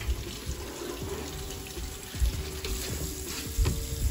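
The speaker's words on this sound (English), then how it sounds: "I'm gonna cut up the potatoes and rinse them off." Tap water runs steadily into a kitchen sink while cut potatoes are rinsed under it, a continuous close splash with a few brief louder knocks, no talking.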